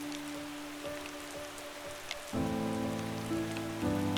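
Rain patters steadily on a surface in the New Zealand backcountry, soft and close, with a low droning hum joining partway through; no voices.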